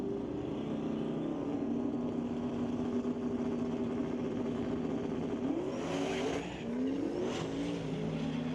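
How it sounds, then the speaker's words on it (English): Two drag race cars in an Outlaw 275 round spinning their tires in burnouts at a racetrack, a loud continuous engine drone with rising revs and screeching tire noise, heard from a distance. "spinning it up on either side of the racetrack"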